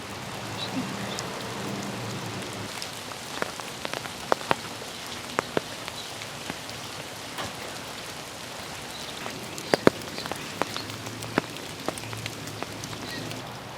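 Rain falls steadily during an outdoor walk, a continuous close patter with scattered louder drops hitting nearby surfaces. No one speaks.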